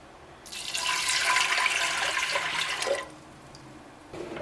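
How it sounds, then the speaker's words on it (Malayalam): Water pours steadily into lentils in a pressure cooker, making a rushing splash for about two and a half seconds before it stops, with a quiet room around it. "ഈ പരിപ്പ് വേവിച്ചെടുക്കാൻ വേണ്ടിയിട്ട് ആവശ്യത്തിന് വെള്ളം ചേർക്കുക"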